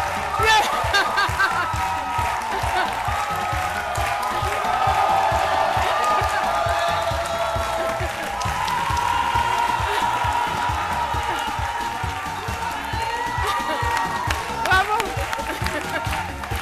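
An audience applauds and cheers for a singer at a televised midday show, with a dense wash of clapping and whoops under ongoing talk and music.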